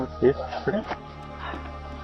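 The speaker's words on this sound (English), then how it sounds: "Sorry, but dog." A dog gives two sharp barks close by inside an apartment doorway, then a fainter third, with people talking around them.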